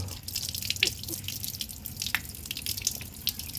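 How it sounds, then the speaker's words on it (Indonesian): An outdoor water tap runs strongly with a steady rushing flow, broken by close splashes and drips against the basin throughout. "Nah, ini dia tuh kondisi di keran luar. Gede kan nyalanya tuh."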